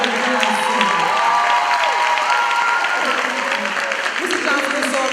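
Steady applause from a crowd fills the clip, with some cheering and voices mixed in, sustained at an even level throughout.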